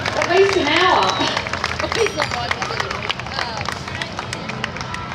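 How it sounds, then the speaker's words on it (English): A parade crowd at a carnival of flowers claps and applauds walkers, with dense rapid clapping, cheers and babble that are loudest at the start and then settle into scattered, continuing applause under voices. "Give them a big clap, big applause."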